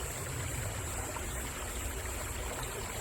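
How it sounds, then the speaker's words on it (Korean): A clear mountain stream in a rural valley flows continuously, a steady broadband rush of water with no voices or other sounds. "아주 맑은 개울이 흐르고 있죠?"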